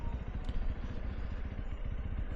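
Honda CRF300L Rally motorcycle rolling downhill on engine braking, a low, steady mid-pitched engine drone with faint clatter, close and continuous with no talk.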